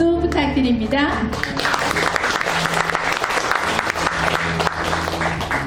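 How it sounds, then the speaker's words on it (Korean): Audience applause at a Korean poetry recital performance; a brief spoken phrase opens, then dense, loud clapping continues steadily with a sustained tone beneath. "여러분 뜨거운 박수 부탁드립니다"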